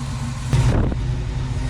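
A not-fully-warm car engine, idling roughly, gets a short rev that swells and fades within a second, then settles back to a steady low rumble close by.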